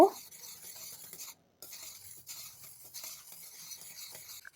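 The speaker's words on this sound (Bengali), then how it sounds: "ভালো করে মিশিয়ে নেব" A spoon stirs bubbling orange candy syrup just after a little food coloring goes in, a soft steady scraping and gentle simmer near and fairly quiet, with a brief pause partway through.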